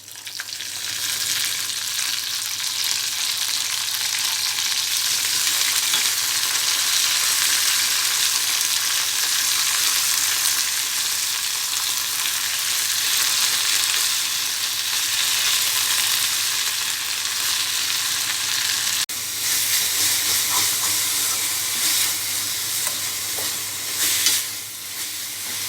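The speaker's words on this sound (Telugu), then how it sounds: "పచ్చిమిరపకాయలు కొద్దిగా ఫ్రై అయిన తర్వాత పుదీనా వేసుకోవాలి." Green chillies and mint leaves fry in a pan with a loud, continuous, close-up sizzle that holds steady for a long stretch, easing slightly near the end with a couple of brief stirring knocks; nobody talks.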